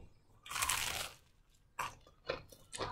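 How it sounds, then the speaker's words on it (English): Someone eats crispy Jollibee fast food, with loud close crunches in separate bites, one long crunch followed by shorter ones, and no talking. "Dang, that crunch."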